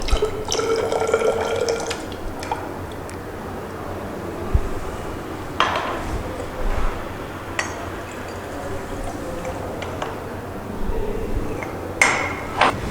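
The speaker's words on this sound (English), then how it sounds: "add 50 ml of distilled water." Distilled water trickles and splashes into a glass apparatus during an arsenic limit test, with intermittent clinks of glassware and small knocks in a quiet room.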